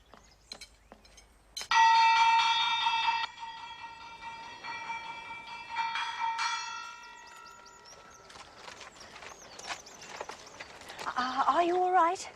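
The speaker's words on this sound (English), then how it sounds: "Did you hear the gong?" A gong rings out in a house, a loud shimmering strike that sustains and slowly decays, followed by quieter clangs and faint voices toward the end.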